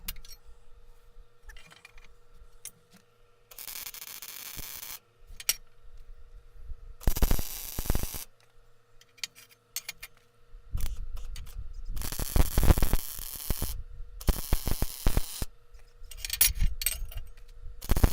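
Short tack welds go onto a steel C-frame riveter part for a homebuilt airplane, several crackling, hissing bursts separated by quiet gaps and faint handling clinks, close by.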